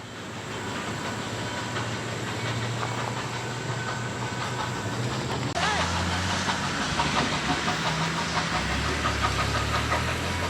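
Nickel Plate Road 765 steam locomotive being towed north toward Rockside Station, a steady low rumble of rolling rail cars and engine drone, continuous and moderately loud with a shift in pitch partway through.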